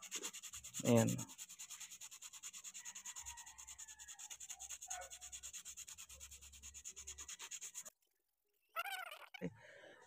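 Repeated rough scraping strokes of sandpaper rubbing carbon off a clutch lining, steady and close, with a brief spoken word early and a short pause near the end.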